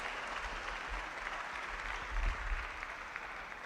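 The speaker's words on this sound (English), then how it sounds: "Please give him a round of applause." Applause from a conference audience at a student union establishment event, a faint, distant wash of clapping that holds steady throughout with a low rumble beneath.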